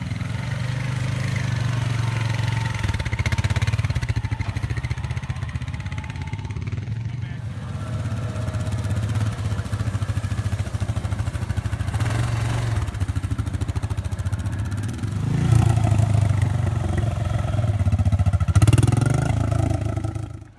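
A 2016 Honda Rubicon and a 2008 Yamaha Grizzly 700 ATV crawl through a trail washout, their engines droning at a steady low idle close by, swelling louder near the end as they rev.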